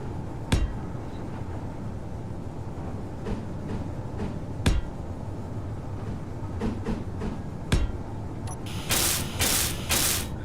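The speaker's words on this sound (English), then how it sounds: "Nice grinder there." Mechanical ratcheting and clanking of a grinder tool in the space-building game Space Engineers, a steady metallic churn with sharp periodic knocks, then a few louder bright hissing bursts near the end.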